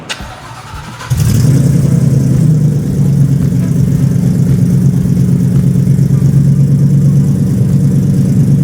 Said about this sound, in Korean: 이만의 매력의 감성의 배기음을 당장 보여드리고 싶어서 제가 이제 들려드립니다